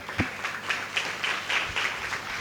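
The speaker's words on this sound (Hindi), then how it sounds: "अरे वाह, तालियां जोरदार।" Applause from a church congregation at a Sunday worship service, a steady wash of clapping that fills the room, with a few sharper claps standing out near the start.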